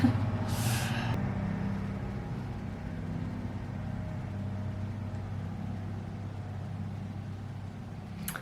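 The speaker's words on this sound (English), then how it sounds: "there goes a truck. You probably hear that." A heavy vehicle rumbles steadily with low engine drone, a brief hiss of an air brake near the start, then a sustained passing roar that slowly fades.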